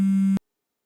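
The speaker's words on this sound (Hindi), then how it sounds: "मुराद का फोन।" A phone gives a single short steady electronic ring tone, loud and close, cutting off abruptly after a fraction of a second, with no voices.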